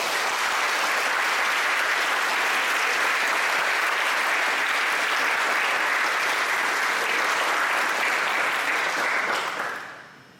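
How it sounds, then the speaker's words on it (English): Sustained applause from a sizable crowd at an author event, steady and dense throughout, then tapering off quickly at the end. "Please give a big round of applause to one of our authors"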